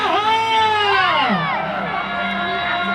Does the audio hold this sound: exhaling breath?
no